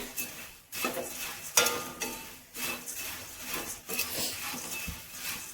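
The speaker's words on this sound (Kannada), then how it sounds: "ಮಂಡಕ್ಕಿನ ಎಣ್ಣೆಯಲ್ಲಿ ಒಂದು ಸ್ವಲ್ಪ ಫ್ರೈ ಮಾಡ್ಕೊಳ್ತೀನಿ" Puffed rice frying in oil in a pan gives a soft crackle, with repeated scraping stir strokes and light clatters of a utensil against the pan coming in irregular bursts, fairly quiet.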